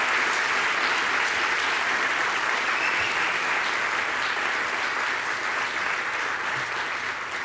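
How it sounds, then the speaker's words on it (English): An audience at a conference talk claps and cheers in steady, sustained applause that fills the room evenly from start to finish. "I want a round of applause for Jameson and Matt Zabriskie."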